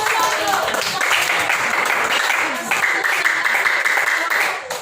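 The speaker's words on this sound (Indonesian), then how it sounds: "Baik, tepuk tangan dulu, tepuk tangan dulu." Classroom students applauding together in a dense burst of clapping that holds steady for several seconds, close by, with chatter mixed in.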